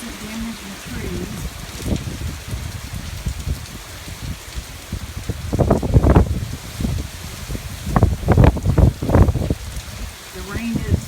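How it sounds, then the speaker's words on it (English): Hurricane Matthew drives wind and rain sideways at the southern tip of South Mandarin, a constant wash of rain with gusts and rustling trees swelling in bursts, while a voice talks intermittently nearby. "The rain is, or should I say the wind is pushing the rain from the north to the south."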